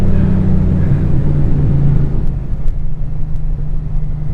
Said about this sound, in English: And in 3rd gear it moves.